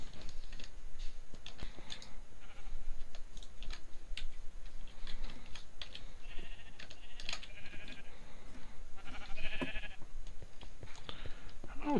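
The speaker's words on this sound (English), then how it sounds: "there's sheep" Sheep bleating in the Minecraft modpack Agrarian Skies, a few short bleats over a busy bed of clicking and ticking game sounds, moderately close.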